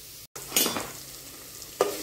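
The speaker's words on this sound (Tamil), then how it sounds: "வெங்காயம் தக்காளி நல்லா வதங்கிடுச்சு" Onions and tomatoes sautéing in a pan, with a steady soft sizzle broken by a couple of brief stirring scrapes.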